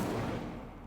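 Incendio fire spell cast in Hogwarts Legacy, a short loud burst of flame that starts strong and tails off over under a second, with no talk.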